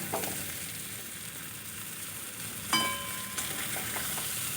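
Potato, okra and egg frying with Maggi masala in a pan, a steady close sizzle with a few sharp scraping stirs of the spatula near the end.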